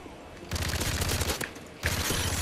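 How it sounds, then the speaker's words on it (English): Rapid-fire gunshots in Call of Duty: Modern Warfare 3, two dense bursts of fast automatic fire separated by a short gap, loud and close, with no talking. "Looks like I'm using rapid fire now."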